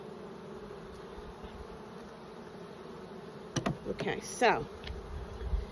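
Honeybees buzz around an open resource hive during a frame inspection, a faint steady drone with a few louder passes close by, while a person speaks briefly near the end.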